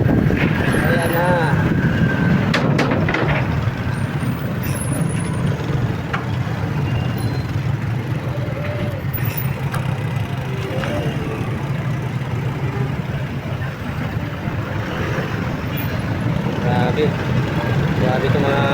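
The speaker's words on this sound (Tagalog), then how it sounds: "Traffic." Road traffic in Pasig with trucks, buses and tricycles: a constant engine drone and idling rumble with occasional air-brake hiss, continuous and fairly near, with a voice speaking at times.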